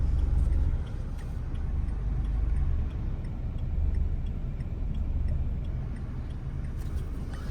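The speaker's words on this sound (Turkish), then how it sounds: "Dörtlüyü yaktık." Steady indicator ticking from a car's hazard lights inside a learner driver's car during a driving lesson, regular clicks over a low engine rumble and cabin noise, no talking.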